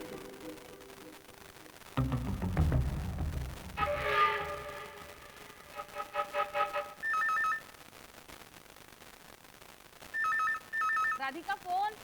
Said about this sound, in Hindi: फोन उठा ले संगीता